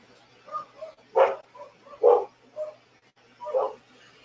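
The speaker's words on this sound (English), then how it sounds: "What are we barking at now?" A dog barks nearby in an irregular series of about seven short barks, some louder and some softer, with quiet gaps between them.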